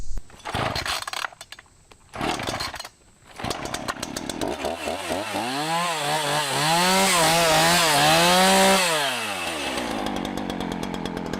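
A chainsaw sputters and starts, then revs up and down loudly as it cuts through trees, vines and bushes, its engine pitch rising and falling with the load.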